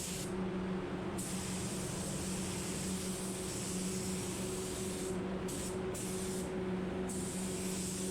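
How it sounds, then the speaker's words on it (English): A spray gun lays a final coat of plain clear over tinted candy paint, giving a loud, continuous airy hiss that runs the whole time, briefly dipping and resuming in short pauses. "I'm coming back in with my final coat of clear, which is just a normal clear here, and I'm just going to blow over everything"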